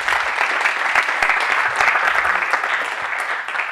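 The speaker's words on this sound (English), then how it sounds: "so please, a round of applause for you" Steady applause from an audience at a community tech meetup, a dense, continuous patter of many hands clapping that holds at an even level throughout.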